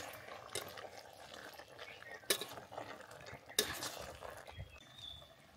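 A Maharashtrian-style jackfruit vegetable dish with salt is stirred in a pan. The spoon makes soft, faint scraping, with a few sharper metallic clinks against the pan and no talking.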